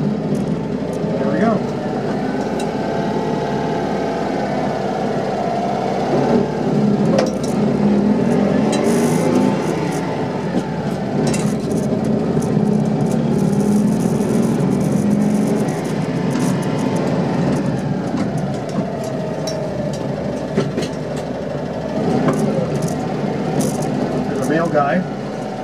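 A 1963 Citroen 2CV Truckette van on a cold-day drive, its small engine giving a steady droning hum with gear-change swells, loud and close inside the cabin, with a voice talking over it now and then.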